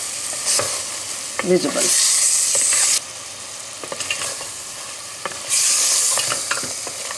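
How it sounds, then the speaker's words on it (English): Yogurt being sautéed and stirred in oil for Kashmiri rogan josh, with loud bursts of sizzling and frying alternating with quieter scraping and stirring strokes in the pan, close by and mostly alone, with one word spoken. "sauteing, stirring, we see oil coming up and all whiteness of yogurt is absorbed"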